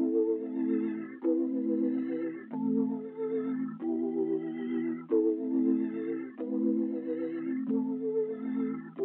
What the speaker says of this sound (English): the first sound I use is just an electric piano from Analog Lab